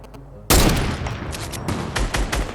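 Gunfire in the Fortnite Battle Royale video game, a sudden loud burst of shots followed by several further cracks and rattles over about two seconds.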